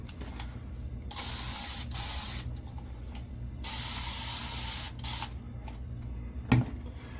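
A spray bottle mists water onto a head to wet it before a head shave: several hissing bursts, two long and some short, close by, followed by a brief knock near the end.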